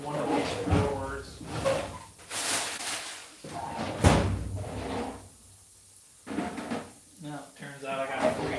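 Kitchen drawers and cupboards open and shut in a series of thuds and slides while someone searches for a can opener, heard close up amid ongoing talk.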